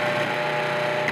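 A food processor whirs steadily, combining pecan custard tart pastry ingredients with a continuous, fairly loud motor hum and a brief uptick near the end, with no talking.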